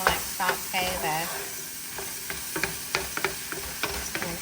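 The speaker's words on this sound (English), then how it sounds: "We want to keep it on high because we want to saute this." Onion sautéing on high heat in a pan, a steady sizzle broken by repeated scraping stirs and utensil clicks, close and moderately loud, with occasional voice in the background.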